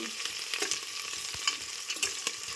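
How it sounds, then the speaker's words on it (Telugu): Sliced onions frying in hot oil with cloves and shahjeera for a mutton curry, a steady bright crackling sizzle with a few scrapes of stirring, close and alone with no talking. "ఉల్లిపాయలు వేసుకుందాం."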